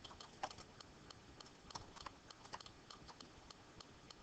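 Light tapping on the touchscreen keyboard of a 3rd-generation iPod touch, a quiet, irregular run of soft clicks over faint background hiss, with no one talking.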